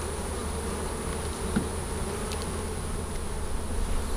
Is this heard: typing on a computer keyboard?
no